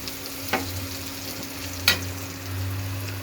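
Turmeric powder hits hot oil in a pan, a soft steady sizzle with two sharp spatters and stirring scrapes, close and fairly quiet, no voices.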